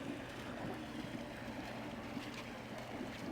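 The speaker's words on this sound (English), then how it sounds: "What we're hearing is this little fountain right over here." A small water fountain near Lake Powell splashes and trickles steadily, a soft continuous wash of water heard faintly with no voices.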